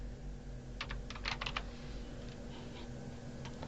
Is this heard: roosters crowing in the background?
no